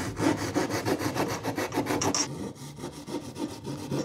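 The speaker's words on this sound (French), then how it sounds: "Ça, je vais le scier à la scie japonaise," Wood being sawn by hand with a Japanese pull saw, a steady series of rasping strokes close up with no talking, the rhythm shifting slightly partway through.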